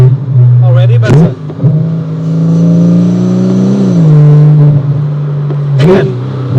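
A Porsche Cayman GT3 with a PDK dual-clutch gearbox revs loudly and close, its engine note climbing and dropping through quick gear shifts with sharp breaks between gears.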